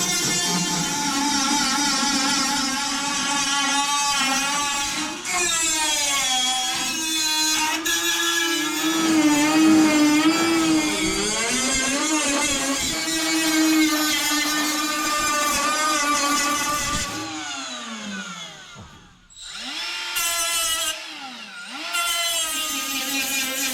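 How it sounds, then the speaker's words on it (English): A power grinder works down weld beads on a replacement car floor pan, a loud, steady, high-pitched whine with shifting pitch as the disc bears on the steel, running continuously with a brief dip near the end. "So I grind everything down, even though it takes up a lot more time."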